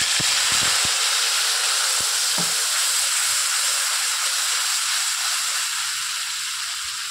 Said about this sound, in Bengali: এই তেলটা গরম হয়ে গেছে, আমি যে মশলাটা করে রেখেছিলাম এই মশলাটা এবার দিই।